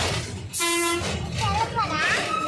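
A train passes nearby with a rumbling roar and a short horn toot, while people talk over it.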